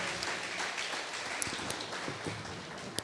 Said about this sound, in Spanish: Les damos un cálido aplauso por su servicio.